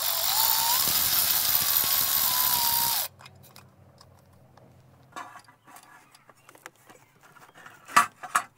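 A power tool whirs loudly for about three seconds while removing bolts from a Duramax lower rocker arm cover, followed by scattered metallic clinks and the clatter of bolts and tools being handled.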